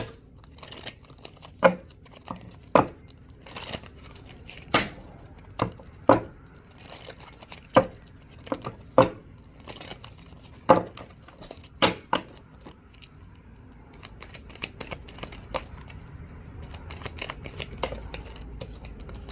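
Cards from a law of attraction deck are shuffled and handled up close in a quiet room, giving a run of sharp riffling snaps and slaps at an uneven rhythm, followed by softer rustling.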